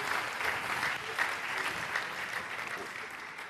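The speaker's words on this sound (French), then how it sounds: "Acclamons très fort" A church congregation applauds loudly at a sermon, a dense, steady wash of clapping from many hands that fills the room and tapers slightly at the end.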